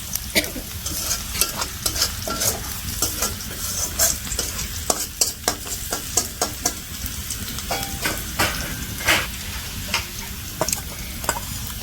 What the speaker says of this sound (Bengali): এই যে আমি পেঁয়াজটা ভেজে নিতেছি